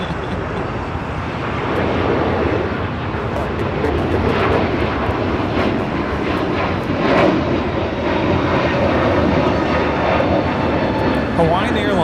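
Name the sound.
Hawaiian Airlines Airbus A321neo airliner taking off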